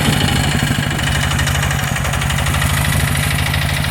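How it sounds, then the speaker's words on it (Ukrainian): A walk-behind motor tractor's engine runs steadily while tilling on a hillside, a loud, close, continuous chugging throb with no voices. "трактор працює"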